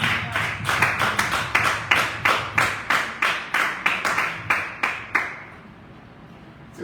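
A church congregation claps in unison during worship: about fourteen sharp, evenly spaced claps in a steady rhythm, then the clapping stops and the room goes quiet.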